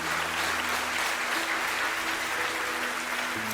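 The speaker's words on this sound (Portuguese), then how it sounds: "Aplauda o Senhor bem forte." A church congregation claps loudly and continuously, a dense, even wall of applause with steady sustained musical tones holding underneath throughout.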